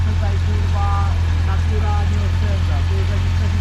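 A motorcycle engine runs at a steady idle, its low, even drone persisting throughout while people talk over it.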